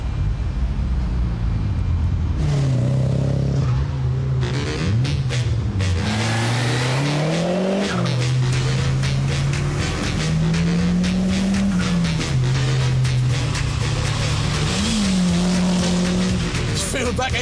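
A sports car engine drives and accelerates, its loud, sustained drone rising and falling in pitch through repeated revs and gear changes, with tire noise and a voice talking over it near the end.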